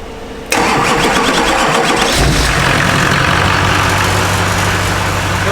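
A K20 engine swapped into a diesel car cranks and fires up after a brief pause, then settles into a loud, rough, steady running roar close by.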